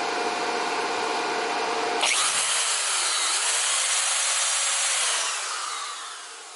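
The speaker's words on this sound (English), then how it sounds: "And let's try the drill again." A power drill run off a LiTime 100Ah LiFePO4 deep cycle battery whirs loudly and continuously. Its tone shifts abruptly partway through, then the motor winds down as it fades.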